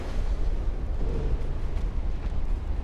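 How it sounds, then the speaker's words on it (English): Torpedo strike on a battleship in a naval warfare video game, a sustained deep rumbling blast that stays loud and dense for the whole stretch, heavy low-end roar with no voices. "There was a torpedo that hit the battleship."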